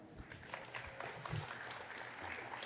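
An audience at a Python lightning talk session claps for an incoming speaker, a fairly faint, diffuse spatter of applause from a modest crowd, with a few louder claps standing out.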